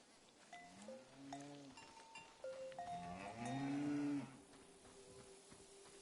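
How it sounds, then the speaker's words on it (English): A cow lets out long, rising and falling moos, several drawn-out calls in a row, clear and fairly close in a quiet rural setting, with no talking. "The name of this cow is TVC-15."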